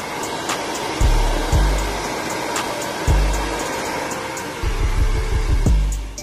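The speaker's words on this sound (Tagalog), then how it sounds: "Pagkatapos naming i-blower ang buhok na ginamitan ng hair coloring, after ng hair coloring" A hair dryer blows steadily and loudly on color-treated hair in a salon, its constant rushing airflow broken by deep repeated thumps and bumps as it is handled.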